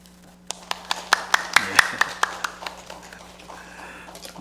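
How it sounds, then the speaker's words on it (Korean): A small church congregation claps during a Sunday morning worship service, about a dozen distinct, evenly spaced claps that build and then fade, with some background murmur. "우리 가정에서도 다 박수치고 계신 걸로 알겠습니다"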